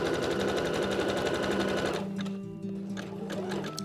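Stitching elastic onto a bra, a sewing machine runs slowly and steadily around a curve, its close, even buzz easing off partway through.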